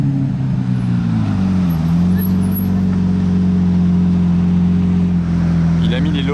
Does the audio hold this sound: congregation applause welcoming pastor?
no